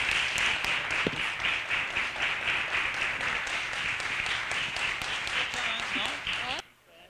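Applause rings out at the close of a typography event in Rio de Janeiro, a steady crowd clapping with a few sharper claps near the front that stops abruptly near the end, fairly distant and even.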